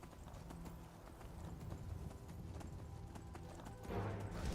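A horse's hooves clip-clop steadily at a trot in Skyrim, a close, even rhythm of hoofbeats over quiet ambient game sound, growing slightly louder toward the end.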